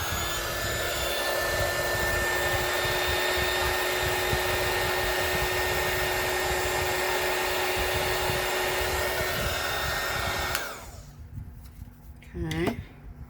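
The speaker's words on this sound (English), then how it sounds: "And I'm going to use my heat gun to do that." A heat gun blows a loud, steady roaring whoosh close by while clearing bubbles from UV resin in earring molds, then shuts off abruptly near the end, leaving quiet room tone and a brief voice.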